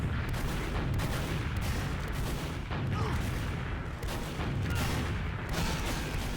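Dense, continuous video-game gunfire and booming blasts during a shootout targeting a medic, loud and unbroken with no talking.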